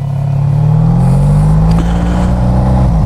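A Honda VF1000F Interceptor V4 motorcycle engine revs close up with a loud, steady droning roar, its pitch holding high then sagging slightly near the end. No one speaks.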